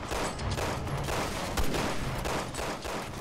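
Gunfire in Resident Evil 6, with a sniper rifle among the weapons, heard as a rapid series of sharp cracks and thuds amid steady combat noise, fairly loud and without talk.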